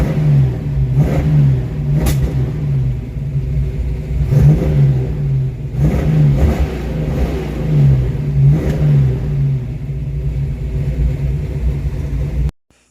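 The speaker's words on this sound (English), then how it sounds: "It's been running for about 30 minutes and we can rev it up." A project Ford Mustang engine with a Holley carburetor idling loud and close, a lumpy rumbling idle broken by several short revs before cutting off abruptly.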